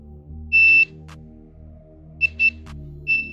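A multimeter continuity tester beeps on a shorted Samsung A12 phone board: one long tone, then a silent gap, then a quick cluster of short beeps and a final brief tone, all close and loud over faint background noise.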